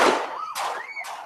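Gunshots fired during a live TV news shot of an interview with a local official: three sharp, loud cracks about half a second apart, each followed by a brief ringing tail.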